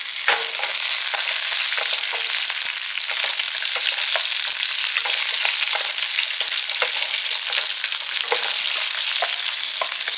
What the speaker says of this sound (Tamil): நாலு வெள்ளைப்பூடு உங்களுக்கு காரத்துக்கு ஏற்றப்ப வரமிளகா கொஞ்சோண்டி புளி போட்டு நல்லா நம்ம வறுத்துக்கலாம்